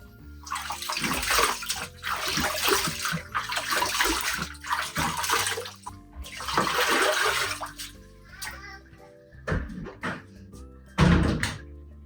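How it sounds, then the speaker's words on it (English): Running water in bursts while a face is washed at a sink in a Japanese home, with gushes that start and stop, splashing and a few knocks, close by and without talk. "Next, I wash my face."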